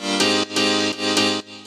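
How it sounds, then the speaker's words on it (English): The original mono Korg M1 piano patch for a house track, playing loud bright chord stabs in a steady rhythm of three hits with sustained ringing between them, close and clean with no voices. "This is the actual M1 piano here"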